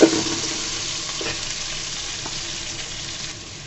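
Potato and eggplant fry in hot oil in a pan, a continuous soft sizzle that starts a little stronger and then settles into a steady, moderately quiet hiss, with no talking.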